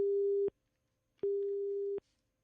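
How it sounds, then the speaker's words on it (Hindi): A telephone busy tone after a caller's line disconnects during a radio phone-in programme: two loud, steady, identical beeps of about half a second and three-quarters of a second, separated by silence. "फोन बीच में ही कट गया"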